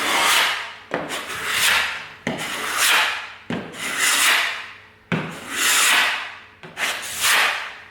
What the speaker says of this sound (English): scrape off any high spots that you might have